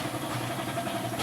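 An Isuzu OHC diesel truck engine idles with a steady, even rumble, fairly faint but continuous throughout.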